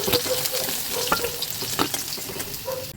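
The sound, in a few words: fish frying in a pan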